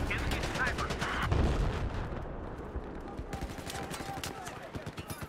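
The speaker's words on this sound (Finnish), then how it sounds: "Tää hitto, mistä mua ammuttaa?" Gunfire in Battlefield 4 multiplayer: rapid automatic bursts and heavier booming shots, dense and loud at first, then sparser repeated cracks, with a player's voice underneath.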